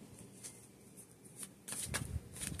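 Tarot cards are slid and shuffled on a table, giving soft papery rustles that build into a busier flurry of card riffling toward the end, close and fairly quiet.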